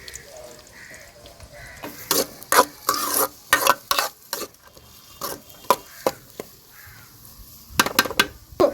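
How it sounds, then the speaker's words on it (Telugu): Onions going into hot oil for an egg dish, heard as a series of sharp, separated scraping and clattering stirs against the pan over a faint background, close by and without voices. "నూనె అయితే కాగింది ఉల్లిగడ్డలు వేసుకుందామండి ఫస్ట్"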